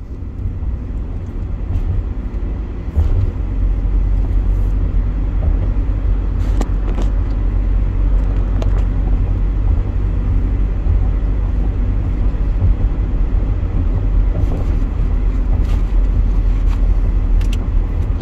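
A car driving through south Atlanta toward the Mercedes-Benz Stadium, heard from inside as a steady, loud low road rumble and engine drone, with faint ticks and clicks now and then.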